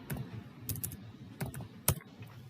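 Typing a network command at a computer keyboard, quiet scattered keystrokes with a few sharper clicks and one louder key strike near the end, no voices.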